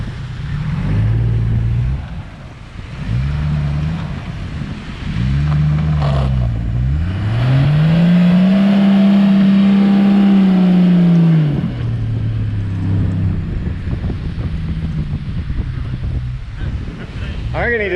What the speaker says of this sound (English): I reckon he just likes the sound of his car.